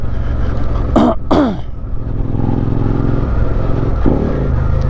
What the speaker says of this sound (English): Horrible downshift